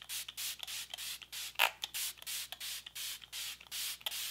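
Short hissing bursts of a Smashbox Photo Finish Primer Water setting mist, sprayed repeatedly in a steady rhythm of about a dozen quick pumps, close and crisp.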